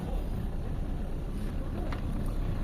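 A Mitsubishi Lancer GLXi engine runs with a loud, close, steady low rumble under the gas pedal, without clear separate revs.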